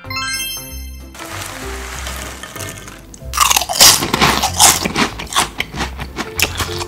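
Ogamja potato snacks are crunched and chewed up close, with a run of loud, crisp bites and grinding after a stretch of background music, and no talk.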